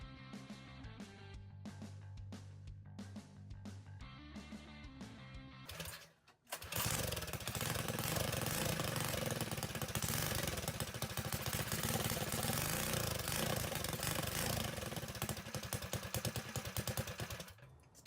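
Trailmaster MB200 mini bike engine fitted with a silencer bursting into a loud, raspy, steady roar close by, following a stretch of rhythmic mechanical clattering, with no talk over it.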